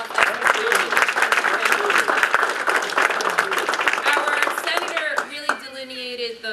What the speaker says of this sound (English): let's give him a great North applause